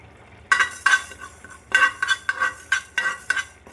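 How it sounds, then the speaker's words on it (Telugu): Fenugreek seeds fry in a pan, stirred with a metal spoon that clinks and scrapes against the metal in quick irregular bursts, close and fairly loud, with a faint sizzle underneath. "మెంతులు ఎర్రగా వేయించుకోవాలి."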